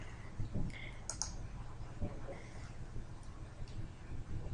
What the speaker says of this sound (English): I'm going to click on Import Data. And I'm going to click Browse to pull up the file.